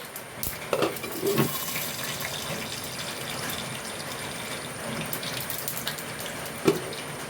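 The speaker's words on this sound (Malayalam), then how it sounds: "ഇതാ ഉഴുന്നുപരിപ്പ് ഇട്ട് കൊടുത്ത്" Urad dal dropped into hot oil with popped mustard seeds for a Kerala tomato thoran, giving a steady close crackling sizzle with a few sharper pops, and no voices.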